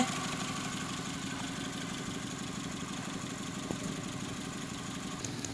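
A 2008 Chevrolet Spark LT engine idles steadily and low throughout, even and continuous with no voices, a faint click breaking in near the end.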